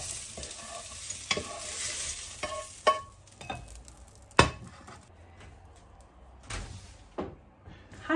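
Fried eggplant scraped and tipped out of a frying pan onto a plate: a series of sharp metallic clinks and scrapes at irregular intervals over a faint sizzle, with a quiet voice speaking.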